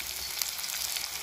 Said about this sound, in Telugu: ఉల్లిపాయ పచ్చిమిర్చి అయితే ఫ్రై చేసుకున్నాం. కరివేపాకు కూడా ఫ్రై చేసేసుకున్నాం